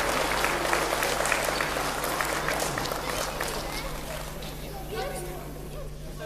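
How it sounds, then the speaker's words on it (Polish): Steady applause for a youth football team of MKP Dąbrowa Górnicza at a youth tournament in Czeladź, with clapping filling the room alongside crowd noise and a low hum, gradually thinning toward the end. "Jeszcze raz brawa dla MKP Dąbrowa Górnicza."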